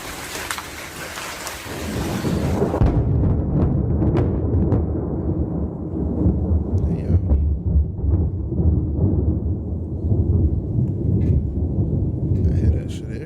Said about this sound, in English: a huge bolt of lightning struck a transformer within the town and let out a massive clap of thunder